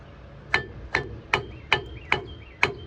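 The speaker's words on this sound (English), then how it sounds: "using a pry bar here as a hammering tool" Six sharp metallic strikes of a pry bar used as a hammer on rusted front brake parts of a 2003 Toyota Tundra land at a steady, even pace about every 0.4 seconds, each ringing briefly before fading over a low background hum.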